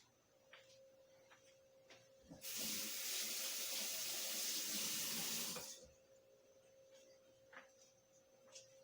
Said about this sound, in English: let's see how it looks when you rinse it off